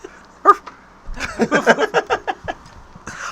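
A person imitates a dog barking with a quick series of about eight rhythmic woof sounds, close and loud, after one short opening yelp.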